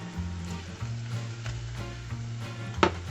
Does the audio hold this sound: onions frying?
yes